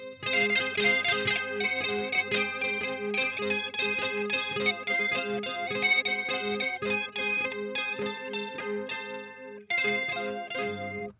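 An electric guitar runs through a chorus effect with slight distortion, playing a continuous stream of shimmering picked notes, briefly pausing near the end before resuming, with no talk.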